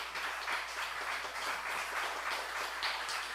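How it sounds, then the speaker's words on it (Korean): A congregation applauds at a church opening thanksgiving service, with steady crowd clapping that fills the room. It sounds moderately distant and even throughout, with no voices over it. "큰 박수로 축하해 주시기 바랍니다"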